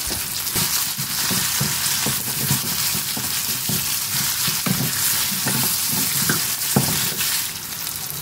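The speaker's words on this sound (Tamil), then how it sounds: "இது நல்லா வதங்கட்டும்" Cinnamon sticks and five cloves fry in oil in a pan, roasting for a mutton bone curry masala, giving a steady close sizzle with scraping stirs throughout and no voices.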